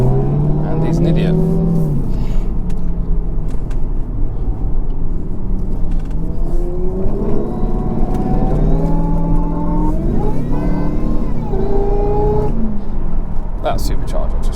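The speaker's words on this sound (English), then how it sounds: "That supercharger just sounds freaking awesome." A supercharged Jaguar S-Type R revs loudly, the supercharger whine and engine note rising and falling repeatedly in traffic, heard from inside the car with someone talking over it.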